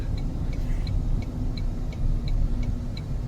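Steady low engine rumble and road noise from inside a 1794 Limited Edition moving at about 35 mph through a neighborhood, with a faint regular ticking like a turn signal.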